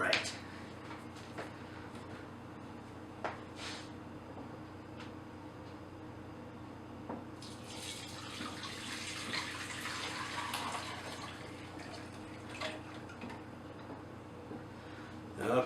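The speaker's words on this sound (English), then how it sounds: "dump mine out through a strainer into a crock pot" Mulled wine is poured through a strainer into a crock pot, a soft splashing pour lasting several seconds midway, faint and close, with scattered light clinks and knocks before and after.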